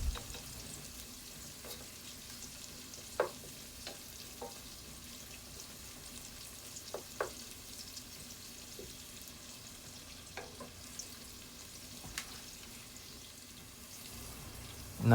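Onions frying in oil in a pan, a steady close sizzle with scattered light clinks and scrapes of stirring throughout, no talking.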